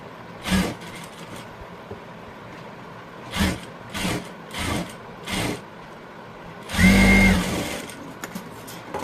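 A sewing machine stitches a blouse, running in short separate bursts of a second or less, then one longer, louder run near the end, close by with no talk.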